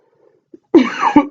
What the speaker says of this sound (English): Getting rid of the rest of this cough.